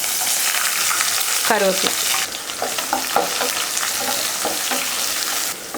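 Mustard seeds, onion, green chili and curry leaves crackle and sizzle loudly in hot oil, with stirring scrapes throughout and a brief spoken word partway through.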